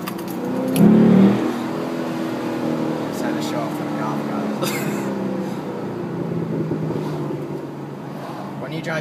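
A Chevrolet Camaro SS drives through a neighborhood, its engine rumbling steadily with a brief louder rev near the start, while people talk inside the car.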